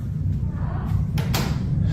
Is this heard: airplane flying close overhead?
no